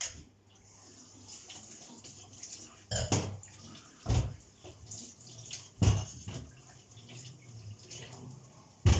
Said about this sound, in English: And rinse the potatoes.